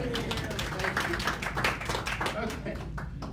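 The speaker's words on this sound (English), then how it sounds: "How about a round of applause, ladies and gentlemen?" An audience at a startup school breakfast applauds, dense clapping from many hands filling the whole stretch at moderate loudness.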